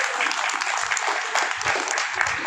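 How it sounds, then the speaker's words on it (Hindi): A crowd at a speech about Bhumihar Brahmin history claps loudly and continuously, a close, dense burst of applause with a few faint voices mixed in. "मैगर राय के लिए तो ताली बजा दीजिए भाई"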